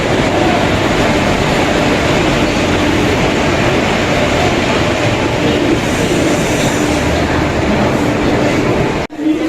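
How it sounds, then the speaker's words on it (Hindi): A train pulls into a station on a rail journey toward Pathankot, a loud, steady rumble of wheels and carriages that runs continuously and close by before cutting off abruptly near the end. "तो गाइस हमारी ट्रेन आ चुकी है।"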